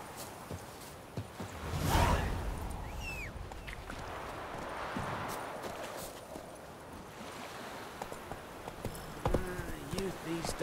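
A horse gallops in The Witcher 3, rendered as a steady run of hoof clip-clops beneath ambient wind and whooshing, with a voice talking over part of the ride.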